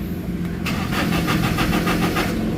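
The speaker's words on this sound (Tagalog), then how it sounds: "So start natin. So makita nyo ayaw mag-start" A manual-transmission Toyota Innova with a fault code P0351 ignition issue cranks without starting, a steady rhythmic starter churn with repeated pulses that begins after a brief pause and continues close and loud.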